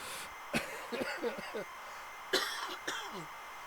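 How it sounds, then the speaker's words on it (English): A person with a cold coughs sharply twice, about two seconds apart, each burst followed by brief throaty sounds, close to the microphone with faint voiced noises in between. "I'll try and cough down the microphone."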